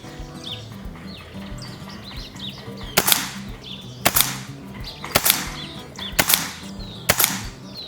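Five sharp shots from a spring air rifle firing 22-grain JTS pellets, spaced about a second apart, each a loud close crack with a short tail, over faint bird chatter and background hum.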